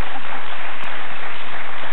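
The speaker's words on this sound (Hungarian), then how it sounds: "Nagy tapsot Vizi Andrásnak!" Audience applause on a Hungarian television show, a dense, loud, even wash of clapping that holds steady for the whole stretch.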